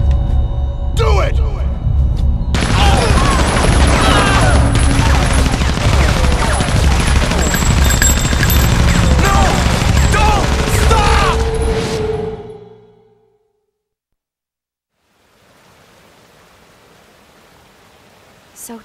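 Sustained gunfire in Resident Evil 0 as a firing squad executes people, a loud, dense burst of rapid shots mixed with shouting voices for about ten seconds, then abrupt silence and a faint hiss.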